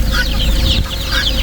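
Chickens cluck and fuss close by in a continuous, busy stream of short calls with no pauses across the whole moment.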